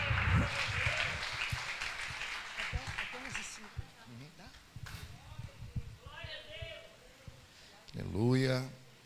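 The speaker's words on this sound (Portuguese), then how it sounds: "a igreja levanta a mão e aplauda Jesus nessa manhã." Applause from a church congregation during a Sunday morning service, with busy clapping for the first few seconds that then fades. Voices speak and call out over and after it.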